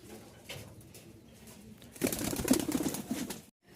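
Domestic pigeons, racers, lotan and giribaz birds kept for sale in Dhaka, cooing softly, with a louder burst of cooing and fluttering near the end before it cuts off.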